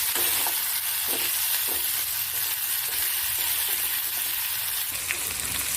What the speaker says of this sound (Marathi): आता तेलामध्ये टोमॅटो नंतर टाकली आपण. आणि टोमॅटो आणि कोथिंबीर तेलामध्ये चांगली मिळून राहून द्यायची.